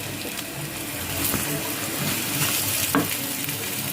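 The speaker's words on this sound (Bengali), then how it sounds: "এগুলো বারবার ধরে উল্টিয়ে পাল্টিয়ে ভাজতে হবে, তাহলে ভালো করে ভাজা হবে" Taro fritters frying in oil over a low flame, a steady sizzle running throughout, with a few soft scrapes and knocks as the pieces are turned in the pan.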